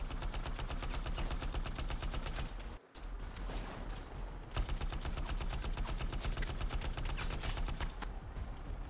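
A turret in the video game Anthem fires rapid, continuous automatic bursts, loud and close, with one brief pause before the rattling resumes and carries on to the end.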